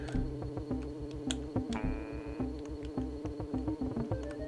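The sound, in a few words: buzzing bee in the video game Donkey Kong Country 3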